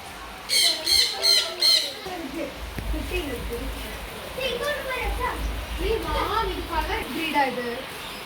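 Large finches at a farm villa in Kerala let out a few sharp, repeated squawks up close at first, followed by softer chirps while people talk over them.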